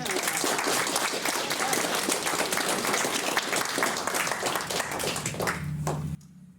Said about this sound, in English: let's give a big round of applause to him